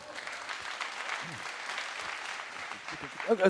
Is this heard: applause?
yes